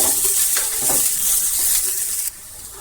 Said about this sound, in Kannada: ಈರುಳ್ಳಿ ಒಂದು ಎರಡನ್ನು ಹಾಕ್ತಾ ಇದ್ದೀನಿ ಫ್ರೈ ಆಗಲಿ